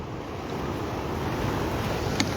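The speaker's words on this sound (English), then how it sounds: "wow, more water coming in, and it's gonna flood into here now" Water rushes and floods into an indoor space, a steady broadband roar like surf with some wind-like rumble and no talk, holding at an even level for the full couple of seconds.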